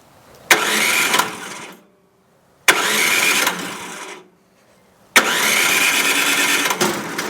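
An Ariens snow blower engine being started, with three separate loud, close bursts of cranking and sputtering, each lasting about a second or two and divided by short silences.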